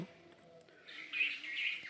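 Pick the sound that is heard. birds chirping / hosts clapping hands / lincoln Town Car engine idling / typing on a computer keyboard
birds chirping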